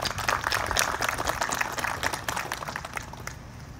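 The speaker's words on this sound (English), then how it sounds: "I'd like to give them a hand." An audience claps for veterans at a hometown banner dedication, a dense patter of many hands, fairly loud at first and thinning slightly toward the end.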